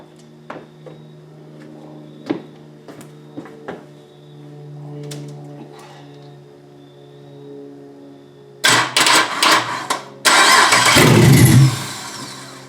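After a few faint clicks and clunks, a 6.0 V8 swapped into a Porsche 944 cranks, catches, and roars to life loudly on its first start, idling roughly with a deep, aggressive rumble.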